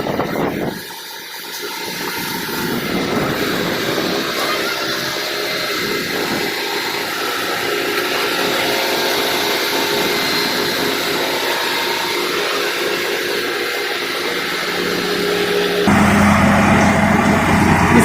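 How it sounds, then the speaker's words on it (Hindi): A Chemetron rail welding machine for rail panels runs at an Indian Railways site, a continuous loud mechanical roar with a shifting hum that swells and changes near the end. "मशीन के द्वारा इसे वेल्ड किया जाएगा।"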